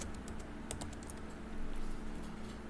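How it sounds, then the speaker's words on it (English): Quick light keystrokes on a computer keyboard, a short cluster of taps typing a word, close but faint over a steady background hum. "I'm going to type in Hermes here."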